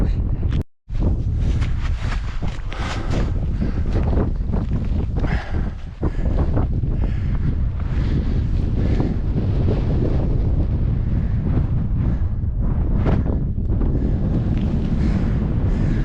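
Strong, continuous wind buffeting the microphone on Skiddaw in the Lake District, a heavy roaring rush that barely lets up from start to finish.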